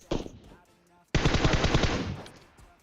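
Automatic gunfire in PUBG on the Erangel map: a short opening shot, a pause, then a loud rapid burst of about eight close rounds fired in quick succession, ringing out alone.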